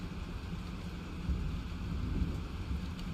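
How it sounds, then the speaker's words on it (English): A storm in the Life is Strange video game, with a steady low rumble of wind and rain and a slight swell of thunder partway through, continuous and fairly loud, with no speech. "This storm is real."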